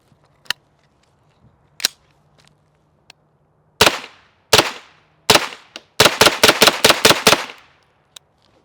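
Springfield Saint Victor 9mm pistol-caliber carbine firing Hornady Critical Defense rounds: a few spaced single shots, then a quick string of about seven sharp, loud reports, each with a short echoing tail.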